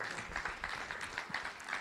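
An audience at a conference on datacenters applauds after a talk, a dense, even patter of many hands clapping, fairly faint and distant, with no voices over it.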